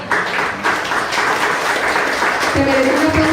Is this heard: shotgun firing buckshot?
no